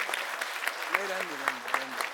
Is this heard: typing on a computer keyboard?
no